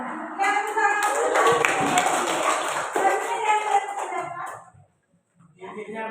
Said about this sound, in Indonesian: Intinya belajar tepuk tangan.